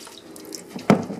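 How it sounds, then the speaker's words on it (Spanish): Tap water is poured over rolled oats in a kitchen while preparing vegan oat waffles, with a brief, close splashing burst over faint background hiss. "Y ahora le echamos agua hasta que se cubra la avena."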